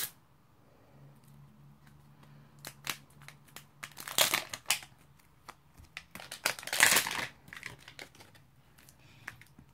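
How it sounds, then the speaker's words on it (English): Zippered plastic packaging of an LOL Surprise doll being opened, with crinkling and rustling that builds into two louder bursts of crackling plastic between sparse clicks. "It has a zipper here, so let's open it."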